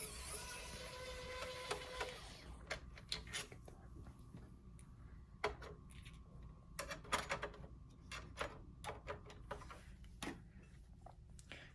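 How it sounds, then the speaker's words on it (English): Electric Phillips head screwdriver working screws on a PS5 console, heard as rapid mechanical clicking and short whirring bursts, with steadier buzzing at first, then intermittent close ticks and clacks. "You're going to need a Phillips head screwdriver. This is an electric one."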